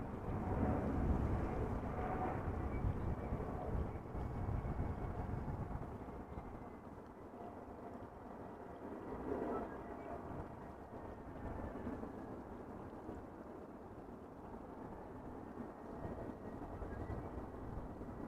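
A 21-year-old airliner, first flown in May 2002, arrives at Amsterdam Schiphol Airport with a broad, steady jet roar. The rumble swells, dips and rises again across the whole stretch, with no voices.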